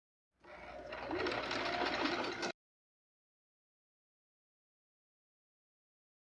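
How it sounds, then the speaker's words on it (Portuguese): A sewing machine runs a seam on pantacourt trousers in one steady, close burst of rapid stitching lasting about two seconds, then silence. "E agora então eu vou passar uma costura aqui, ó."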